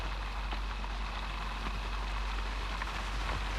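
Steady rain falls without a break during a wait at a railway station, a broad even hiss holding at one level throughout with no voices over it.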